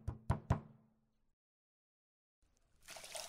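Three quick, loud knocks on a door during a school pupils' stage play, evenly spaced and ringing out briefly, followed by silence and then a rising wash of noise.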